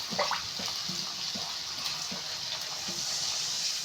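Water is poured into a pot of Tamil-style dried fish curry (karuvattu kulambu), making a steady, faint, hissing gush that runs without a break.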